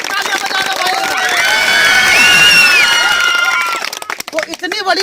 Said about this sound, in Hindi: जोरदार तालियां बजा दो भाई।